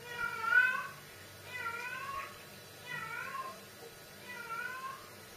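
A female cat in heat meows repeatedly, four drawn-out, wavering yowls spaced about a second apart, fairly close and clear against a quiet room.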